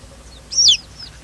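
A chicken gives a single short, sharp cluck during an Azande chicken oracle, loud and close over a quiet outdoor background.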